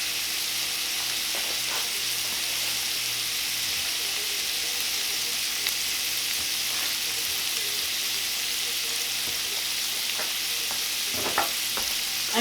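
Ground beef sizzles in a pan with onion and peppers for semi-homemade chili, a constant loud hiss with occasional soft scrapes and taps of stirring, and no voices.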